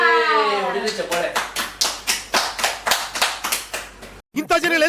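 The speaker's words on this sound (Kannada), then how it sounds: "ಹೊಡಿರಿ ಚಪ್ಪಾಳೆ" A small group clapping in celebration of the winner of a Jolo hot chip eating challenge, about a dozen quick rhythmic bursts, close and fairly loud, briefly cutting off before a voice starts.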